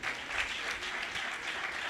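Audience at a church servants' meeting claps loudly and steadily, a dense continuous wash of applause lasting a couple of seconds.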